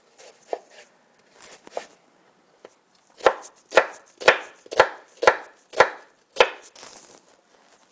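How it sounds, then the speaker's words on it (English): Knife chopping onions on a cutting board for pico de gallo, a few light cuts followed by a steady run of about eight sharp, evenly spaced chops, close and alone. "Once you're done chopping all of your onions"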